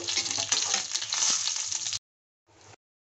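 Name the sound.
fish frying in oil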